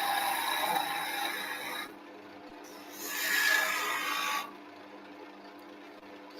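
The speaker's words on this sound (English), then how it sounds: "So I'm going to do another cut with the skew chisel down here on the side" A skew chisel cuts a workpiece of wood spinning on a lathe for a Christmas decoration, giving two scraping, hissing passes over the lathe's steady hum.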